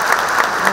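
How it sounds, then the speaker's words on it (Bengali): An audience at an awards ceremony applauds loudly, with dense, continuous clapping across the whole moment. "আসুন আমরা একটা জোরে করতালি দিই।"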